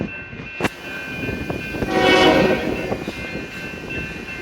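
A train rolls along nearby tracks near Dunsmuir and Castle Crag, with a loud horn blast swelling in the middle over a steady rumble and clatter, plus a sharp bang near the start.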